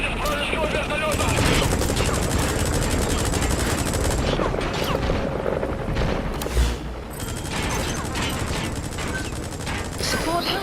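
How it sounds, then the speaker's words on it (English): Combat in the video game Metal Gear Solid V as forces fire on an enemy helicopter: dense, continuous automatic gunfire and booming bursts over a rotor drone, with a voice speaking over it. "Все огневые силы против вражеского вертолета."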